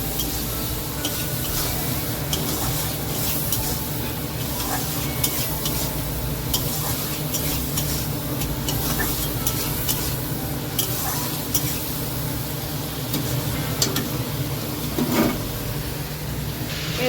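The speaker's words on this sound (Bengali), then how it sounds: "এখন নুন হলুদ দিয়ে গ্যাসটাকে বাড়িয়ে চিংড়ি মাছটাকে ভেজে নেবো।" Prawns fry with salt and turmeric in oil over a gas flame, giving a dense, continuous sizzle with occasional stirring scrapes and faint clatter of a pan, close and steady with no talk.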